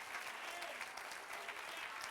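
Steady, crowded clapping fills a church as the congregation applauds mid-sermon. The many hands blend into an even wash that carries on without a break.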